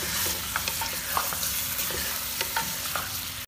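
Two kilograms of chicken frying with ginger and garlic in a karahi, giving a dense, continuous sizzle close by, with light stirring clicks scattered through it and no one speaking.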